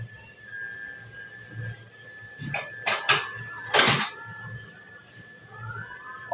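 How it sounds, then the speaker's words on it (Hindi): Onions frying in a pan are stirred with a metal spoon, giving a few distinct scraping clanks against the pan around the middle of the stretch over a low background hum. "और इनको अच्छी तरह से मिक्स करती हूँ मैं।"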